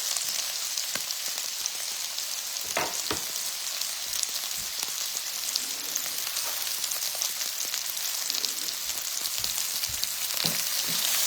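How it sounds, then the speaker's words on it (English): Cut onions fry hard in steak juices and oil left in the pan, producing a loud, dense, crackling sizzle with scattered pops and a few stirring knocks that runs without a break. "So what I'm gonna do, I'm gonna put my cut onions."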